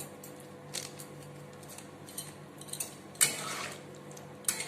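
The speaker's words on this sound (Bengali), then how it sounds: "বাটিটা ধুয়েই অল্প একটু জল দিয়ে দিচ্ছি" A bowl is rinsed and a little water poured into simmering curry in a home kitchen, with soft clinks of dishes and utensils, light splashing and a sharper knock or two.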